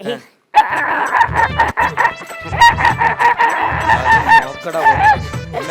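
A person's voice imitates a clucking hen, a run of rapid, nasal clucks and squawks that rises and falls after a brief silence at the start.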